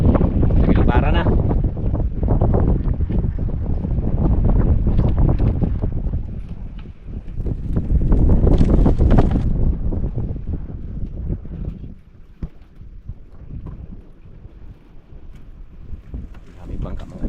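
Strong wind roars across a small fishing boat out at sea, a steady buffeting gust close on the microphone that swells and eases, with voices talking intermittently under it.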